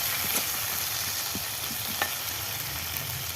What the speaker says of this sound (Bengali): আমি একটু নেড়ে দেবো